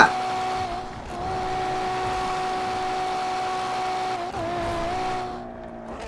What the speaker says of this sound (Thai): กำาจ่ายทำไงอะเสียงท่อ